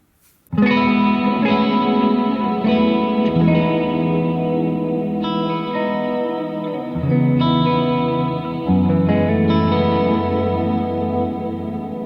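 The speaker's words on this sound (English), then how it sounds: "Let's add in some reverb and delay." Electric guitar chords played loud and steady, bathed in pedal reverb and echoing delay that trail each strum across a long continuous passage.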